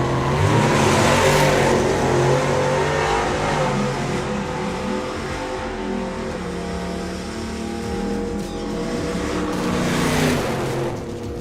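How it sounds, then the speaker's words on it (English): A matte black Duster drag racing car at a national finals event, its loud engine roaring and accelerating down the strip, a sustained heavy drone that swells and shifts over several seconds. "Billy Everett with the matte black duster."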